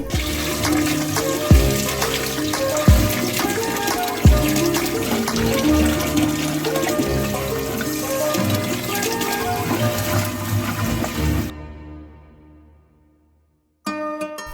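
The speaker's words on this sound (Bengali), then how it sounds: "এখন কেটে রাখা আমগুলোকে ভালো করে ধুয়ে পানি ঝরিয়ে নিতে হবে" Running tap water pours steadily over freshly cut raw green mangoes being washed in a bowl for pickle, with splashing bursts and rinsing rhythm, loud and close, then a brief pause before water resumes.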